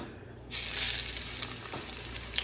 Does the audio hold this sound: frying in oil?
yes